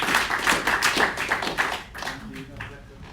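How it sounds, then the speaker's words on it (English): Scattered audience clapping at a founders' business event, a loose patter of handclaps fading over a few seconds with faint voices underneath. "Big round of applause to Dave"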